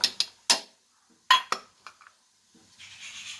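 Metal lid set down on a cooking pan with snake gourd, several sharp close clanks and rattles in quick succession, then a soft shuffling pause and faint hiss.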